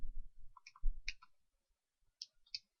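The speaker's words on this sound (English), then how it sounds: "we're going to use our handy-dandy calculator, 256 over 3 times, and there again, I'm going to use the pi button" Calculator buttons pressed one after another, a handful of light, close plastic clicks in an irregular sequence with quiet gaps between, after a brief low rumble of handling.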